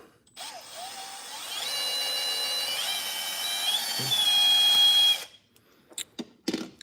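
Small rotary drill cutting into the plastic windshield of a Hot Wheels die-cast car, a continuous high whine that strains and rises in pitch for several seconds before stopping abruptly, followed by faint clicks.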